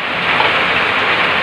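Steady rain falls throughout, a dense, even hiss of drops on surfaces, close and continuous with no talk.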